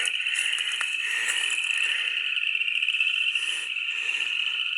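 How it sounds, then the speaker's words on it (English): A steady, dense chorus of high trilling insects and frog calls drones on without pause in the woods, with faint rattling croaks pulsing underneath. "Usually I would think that was bullfrogs and crickets."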